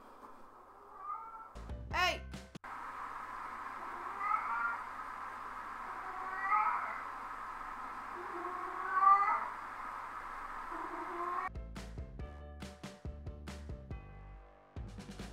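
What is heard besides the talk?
cat meowing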